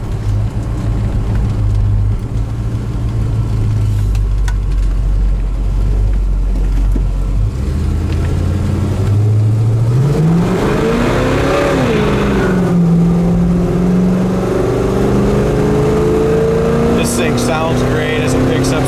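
Fully restored 1970 Monte Carlo engine running loud and steady, then climbing in pitch as the car accelerates and picks up speed, with the drone holding strong to the end.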